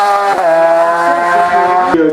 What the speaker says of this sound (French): première moto de course passée ici